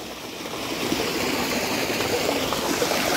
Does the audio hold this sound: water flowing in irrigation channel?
yes